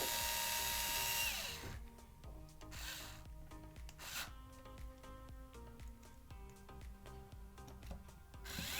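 Small screwdriver driving a screw into a replacement sync button inside an Xbox Series S controller, giving close, repeated rubbing and scraping clicks of metal on plastic with a steady low hum beneath.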